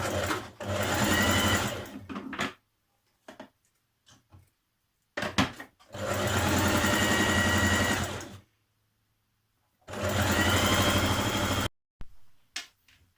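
A sewing machine runs a 1.5 cm seam down a Simplicity 2314 skirt, starting with a back tack: three long, loud motor-and-needle runs close by, separated by silences and short clicks of the machine being adjusted.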